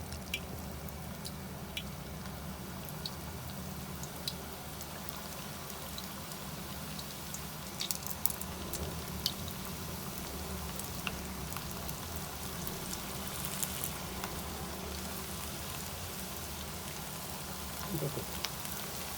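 Potato roll samosas fry in hot oil over a low flame, giving a steady, soft crackling sizzle with scattered small pops that runs evenly throughout at a modest, close level.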